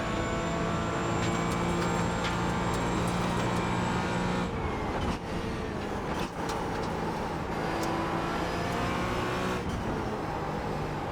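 A race car engine drones steadily and loudly from close range throughout, with the rising and falling pitch of shifts, while racing in close company with a McLaren.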